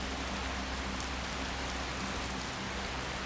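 Steady rain falls in the Ascendance: Threads of Aetherius video game, a dense, even hiss of drops hitting surfaces with no talk over it.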